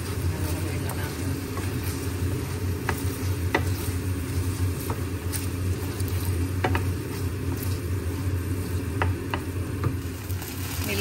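Beef mechado with tomato paste stirred in a pan, giving a steady low sizzle with scattered light scrapes and clicks of the utensil, fairly close and moderate in level.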